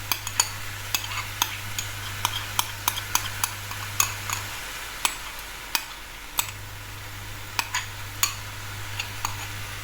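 Konjac pad thai noodles being stirred with sauce in a pan, a soft steady sizzle broken by sharp, irregular utensil clicks and scrapes against the pan, close and alone.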